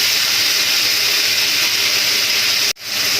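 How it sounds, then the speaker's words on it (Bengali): Potatoes and tomatoes fry in oil in a pan for a potato and tomato curry, giving a steady loud sizzling hiss that cuts out abruptly near the end, then resumes. "দিয়ে টমেটোটা আর আলুটা একটু আমরা ভাজা ভাজা করে নেব"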